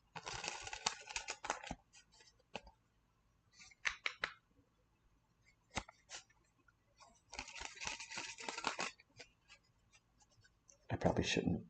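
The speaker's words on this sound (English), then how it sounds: "I probably shouldn't shuffle cards. You're going to hear that" Playing cards being shuffled in bursts of crisp riffling and clicking, with several separate rounds spread over the span and short pauses between them.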